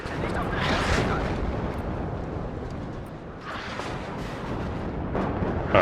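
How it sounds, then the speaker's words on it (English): Artillery fire landing in WARNO, deep rumbling blasts rolling in at intervals, with a couple of distinct heavy impacts standing out over a continuous battlefield din. "Alright, artillery is coming in nicely there."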